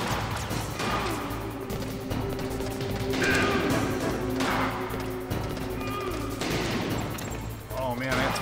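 Gunfire and crashing impacts from the video game Metal Gear Solid, fairly loud and steady across the span, mixed with game effects and a voice talking over it.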